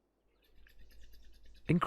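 A Lemergier bird chirps in the Sherlock Holmes: Nemesis video game, with soft twittering calls rising out of near silence before a sudden louder burst of sound at the end.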